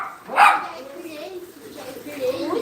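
A dog gives a single sharp bark near the start, then talking takes over and carries on through the rest.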